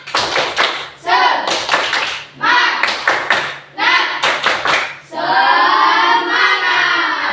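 A primary school class in Indonesia performs a rhythmic group clap cheer, bursts of sharp hand claps in patterned phrases separated by short pauses, ending in a sustained chorus of children's voices.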